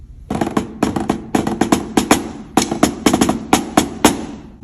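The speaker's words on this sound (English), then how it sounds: "everybody gets a silencer pad to practice at home" A snare drum muted with a practice silencer pad gives quick, dull tapping strokes in short rhythmic bursts, somewhat quieter and less ringing than an open snare.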